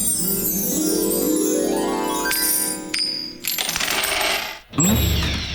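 Coins dropping in the animated cartoon Bread Barbershop, a bright cascade of clinking, tinkling metal pieces that rings out loudly, then a final burst of jingling near the end.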